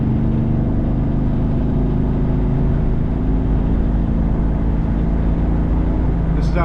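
The engine of a 1983 Pontiac Parisienne four-door drones steadily as it cruises on the road, a constant low hum settling as it shifts into overdrive, with road noise and someone speaking over it.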